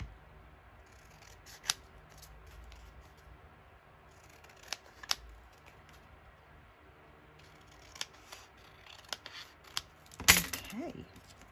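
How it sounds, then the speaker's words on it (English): Scissors snip through paper from junk mail envelopes in a few sharp, scattered cuts, close by in a quiet room, with a quicker cluster of snips near the end. "I'm just going to snip this with the scissors"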